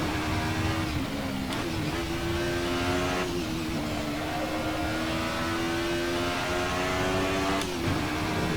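Alfa Romeo 155 Ti V6 racing engine in Assetto Corsa at Imola, revving loudly and continuously with rising and falling pitch as gears shift, up close and alone with no talk.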